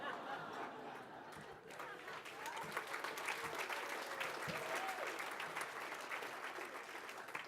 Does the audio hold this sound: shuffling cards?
no